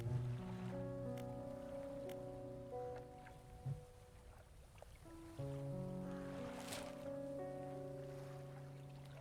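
A small fishing boat in Dredge chugs across the water with a steady, tonal engine drone and lapping waves, the hum easing briefly before a sustained, layered tone returns.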